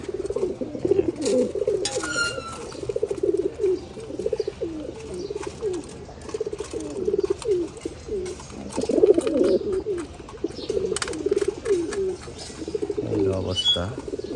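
Caged pigeons coo steadily in a low, rolling chorus, close and continuous, with occasional rustling and a few higher bird chirps.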